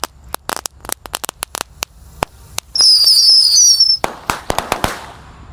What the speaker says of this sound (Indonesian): yang di sini adalah mercon tikus santor. Kita nyalakan semuanya